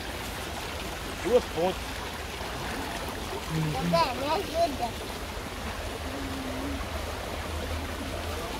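Red-tinted water flows along a trekking trail with a steady wash of running stream noise, while people talk intermittently over it.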